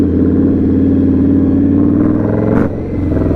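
A big-bike cruiser with an 1100 cc V-engine runs loud and close on a test ride, its deep, throbbing engine note holding steady before shifting briefly as it changes pace.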